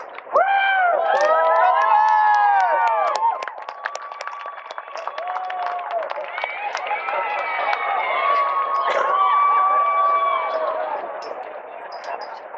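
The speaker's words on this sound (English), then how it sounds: "give them a wave, a shout, and a cheer" A graduation crowd at the US Merchant Marine Academy ceremony shouts and cheers from the stands, a loud sustained roar of many voices with whoops and yells, fading slightly toward the end.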